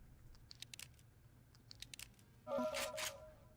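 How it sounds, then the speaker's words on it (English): A harsh, hissy specter creature screech in the video game Sword of the Stars: The Pit bursts in after a stretch of faint clicks and scraping, loud and close for about a second. "That is the sound of a specter."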